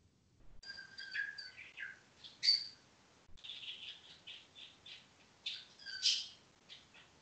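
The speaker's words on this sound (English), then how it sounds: "we have free music in the background from bird singing" Birds chirp and tweet continuously in the background, quiet and somewhat distant, with repeated squawks and trills and no talking.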